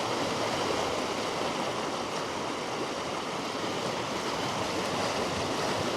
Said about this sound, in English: the river's very fast flowing today